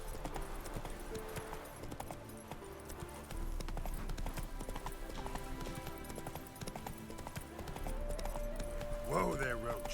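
Roach, the horse in The Witcher 3, gallops with rhythmic hoofbeats that carry on steadily, and someone talks over them as a brief whinny rises near the end.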